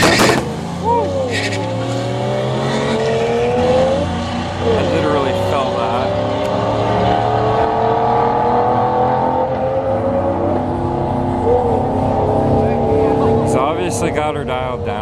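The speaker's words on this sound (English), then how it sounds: "R33 Skyline." A Nissan R33 Skyline driving hard around St. Thomas Raceway Park, its engine climbing and falling through revs with tyre squeal, loud and close, while people talk over it.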